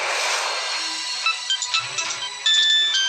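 A mobile phone rings with an incoming call, its electronic ringtone melody repeating in bright tones, loud and close. There is no talking.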